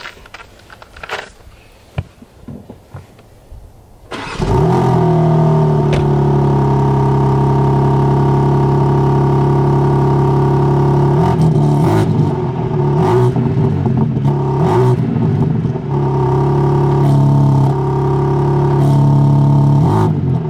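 A BMW M sports car engine with stock exhaust starts up after a few faint knocks and settles into a steady, rumbling idle that holds for the rest of the clip, close and loud.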